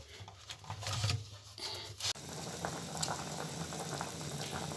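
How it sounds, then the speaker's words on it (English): A pot of bananas boils steadily in the African countryside while ugali is prepared, giving a continuous bubbling and rolling liquid sound, fairly close and alone, with brief clatter near the middle. "They're boiling bananas."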